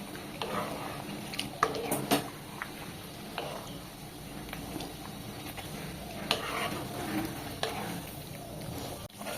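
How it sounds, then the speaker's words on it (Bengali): Marinated mutton being stirred and fried in spices over a high flame, with a steady sizzle and intermittent scraping and stirring clatter throughout, fairly close and moderately loud, no talking. "ম্যারিনেট করা মাংসগুলো এই মশলার ভেতরে দিয়ে ভালো করে নাড়াচাড়া করে নেব"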